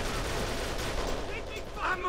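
Dense gunfire rattles in bursts in Kane & Lynch 2, set in Shanghai, a steady fusillade in the background with a voice briefly over it.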